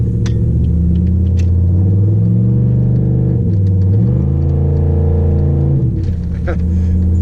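A 2007 Pontiac Grand Prix GXP's LS4 V8 rumbles and revs steadily at close range in second gear, pitch rising and falling as the wheels spin in snow.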